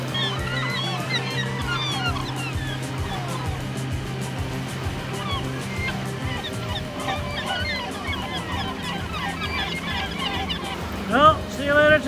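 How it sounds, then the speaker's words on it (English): Gulls call over the sea around a fishing boat, a dense chorus of overlapping honking and crying cries, close and loud, with a sharper squawk near the end. "Here comes the gulls!"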